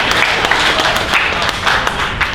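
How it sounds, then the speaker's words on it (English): Audience applause for conference panelists at a summit, dense steady clapping with sharper claps standing out, loud and continuous. "Another round of applause for all the panelists."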